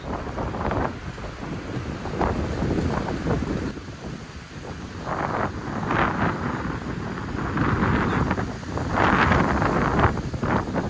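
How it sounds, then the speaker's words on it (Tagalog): Strong wind buffets the microphone in loud, rough gusts that swell and ease throughout, with a rushing roar underneath and no voices, outdoors in Zambales, Philippines. "Tsaka lakas ng hangin."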